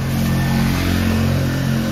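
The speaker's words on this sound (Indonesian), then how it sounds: "kita sekalian dengerin suara mesinnya" A fully rebuilt 1979 Vespa PX scooter, running its original engine, holds a steady, close, droning idle with even low harmonics and no breaks.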